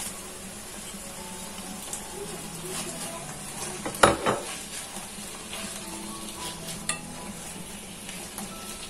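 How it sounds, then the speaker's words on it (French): Chicken, peppers and onions sizzle steadily in a pan, with a utensil stirring and clinking against it and one sharp clatter partway through, all fairly quiet. "Une fois les oignons revenus, on ajoute le poulet."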